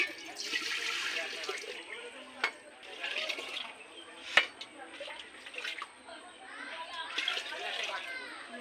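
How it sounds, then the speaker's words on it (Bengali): Water is poured into a cooking pot in a home kitchen, a gurgling, splashing flow that rises and falls in bursts with a few clanks of metal. "হাঁড়িতে জল দিয়ে দিচ্ছি"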